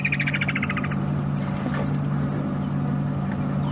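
Wattled starlings at a man-made water pan on an African safari, a short burst of rapid high chirps for about a second, fairly close, over a steady engine hum.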